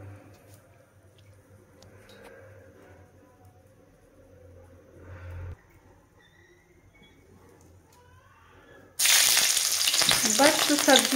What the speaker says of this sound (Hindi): सब्जियों को 2 से 3 मिनट तक हमें पकाना है